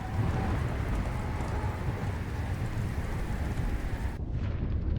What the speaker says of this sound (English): Oh, there's a thunderstorm going on.